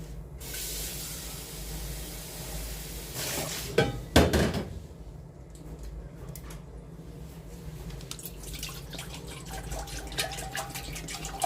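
Water pours into soy sauce to make a pickling brine for wild mountain dureup shoots, a steady close hissing stream with a brief louder splash partway through, then a lighter trickle, no voices.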